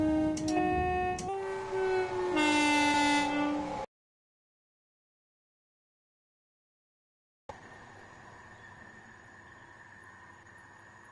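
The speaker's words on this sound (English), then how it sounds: "377s have such a weird sounding horn" A Class 377 electric train horn in the Train Sim World 6 game, on the East Coastway route, sounds two loud tonal blasts that shift pitch. They are followed by silence and then a steadier rail hiss with a faint whine.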